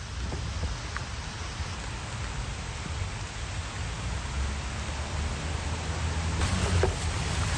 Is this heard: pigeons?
no